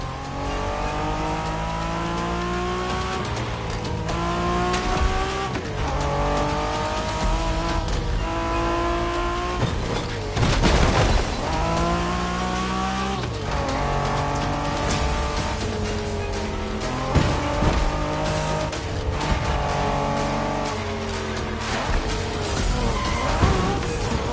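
Honda NSX sports car racing in The Crew Motorfest: a loud, continuous engine roar rising and falling through gear changes and revs, with occasional tire noise, steady throughout with no talk.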